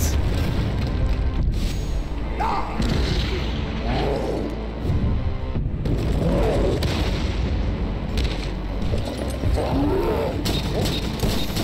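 Tank cannon fire and explosions from an animated war scene, with deep booming blasts and rumbling roars over a dense, loud battle bed throughout.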